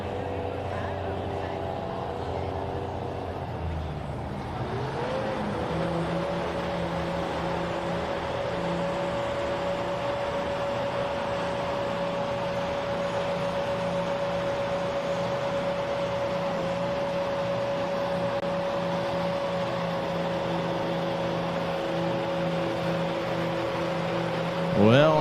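A pulling truck's engine drones at the Cattaraugus County Fair in Little Valley, New York, while the truck struggles and never runs properly. The steady, loud, tonal roar holds for over twenty seconds, with an announcer talking over it.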